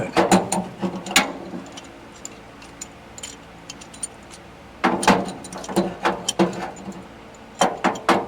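A ratchet wrench clicks in quick bursts while loosening a stubborn nut on a 1988 Bluebird Wanderlodge FC35 generator, with two clusters of rapid pawl clicks separated by a quieter pause, close and fairly loud.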